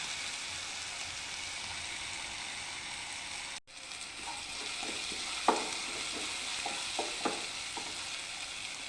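Chickpea curry ingredients sauté in a hot pan with a steady, dense sizzle, broken by several light scrapes and taps of a stirring utensil in the second half.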